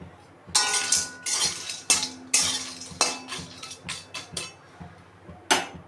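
Garam masala spices are dry-roasted and stirred in a metal pan with rapid, rattling scrapes and clinks of a spoon against the pan. The bursts come in an uneven rhythm, loud and close, with no talk.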